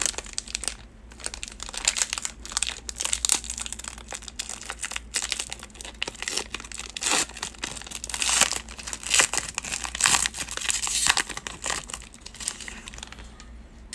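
Basketball trading card packs from a 2019-20 Panini Chronicles break, torn and crinkled open by hand, giving continuous close, loud crackling and ripping of foil wrappers across the whole stretch.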